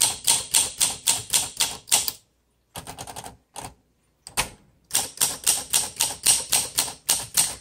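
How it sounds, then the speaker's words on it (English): A 1951 Olympia SM2 manual typewriter is typed key by key in a steady rapid run of crisp clacks, pausing briefly with a few scattered strikes before the regular rhythm resumes. "let's go ahead and test all the keys"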